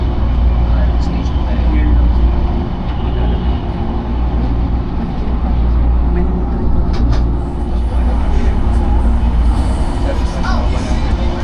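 Steady low rumble and rattling of an MRT metro train bound for Taft Avenue running on rails, continuous throughout with a faint voice murmuring in the background.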